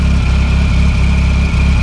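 A car engine idles with only its ancillaries running: a close, steady, low pulsing throb under a constant thin high whine, with nothing else audible.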